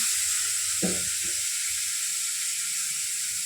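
Dried fish frying in hot salted oil, giving a steady loud hiss of sizzling with a brief soft knock near the start.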